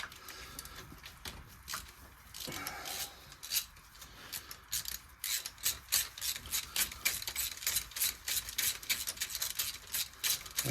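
A ratchet with a spark plug socket works the spark plugs out of a Classic Mini engine, close, quick clicking strokes in irregular bursts that grow denser and more rhythmic toward the end.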